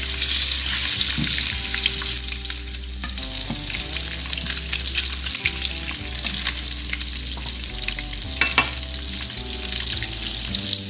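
Eggs fry loudly in a hot pan for Indian-style egg masala, a dense continuous sizzle with crackling spatter and occasional stirring scrapes, steady throughout with no speech.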